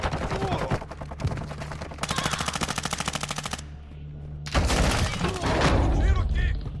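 Rapid automatic gunfire bursts from Call of Duty, loud and dense, in several close volleys separated by a brief lull, with game voice callouts mixed in.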